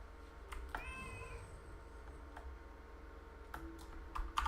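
A cat mount meowing in World of Warcraft: a drawn-out, fairly clear meow near the start, over a steady low game hum with a few soft clicks and keyboard taps.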